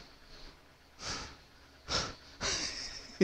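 A person pants heavily after exertion, three close breathy bursts of rough, hoarse exhaling spaced about a second apart, with no talking.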